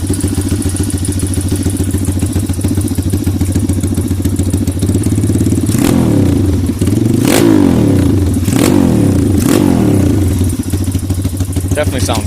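A TaoTao DBX1 140cc pit bike, already warmed up, idles with a loud, close, rapid thumping, then gets four sharp throttle blips in quick succession before settling back to idle.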